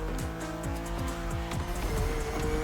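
A BMW racing in The Crew Motorfest video game, its engine revving up repeatedly through quick gear shifts, with tires briefly squealing and scuffing under the steady drone.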